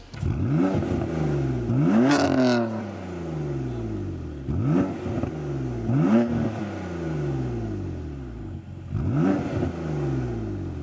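A BMW M4 engine fitted with resonated catless downpipes cranks to life and revs repeatedly, several sharp rising roars that fall back to a loud, rumbling idle between bursts.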